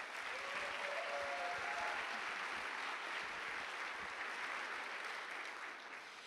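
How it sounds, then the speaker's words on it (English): A live audience at an Ignite Seattle talk event applauds as the next speaker takes the stage, a thick, continuous wave of clapping with a faint whistle early, fading slightly near the end. "Let's give her a round of applause"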